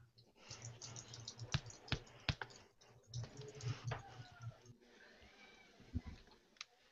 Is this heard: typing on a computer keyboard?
yes